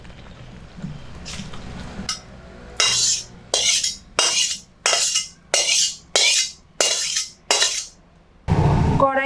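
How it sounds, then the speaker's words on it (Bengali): Boiled banana flowers tipped into a perforated colander bowl: a few quiet clinks, then a run of about eight regular splashy pours or shakes of water draining through, ending in a louder burst of running water. "এখানে একটা ছিদ্র গামলা নিয়ে নিয়েছি তো এই পাত্রটার মধ্যেই মোচাগুলো ঢেলে দেব"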